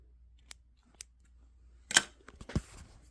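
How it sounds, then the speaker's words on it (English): Scissors snip sewing machine thread above the knot in a few quick, crisp cuts, with faint ticks beforehand and a quiet background. "we trim above where the knot is"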